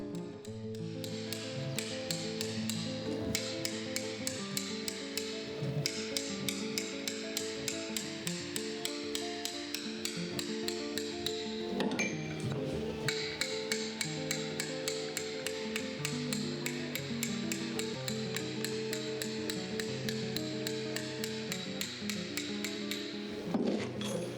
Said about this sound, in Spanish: Con la gradina o cincel dentado, eliminamos la rugosidad dejada por el puntero y nos aproximamos lo más posible al plano buscado.